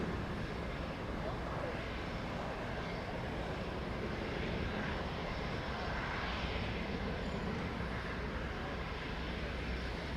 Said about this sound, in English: SkyWest 3474 heading to Fresno, California. That's a little Embraer